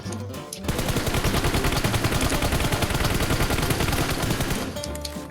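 Rapid automatic gunfire in the mobile battle-royale game PUBG Mobile: a dense, unbroken rattle of shots that starts abruptly and holds loud and steady for about four and a half seconds before cutting off.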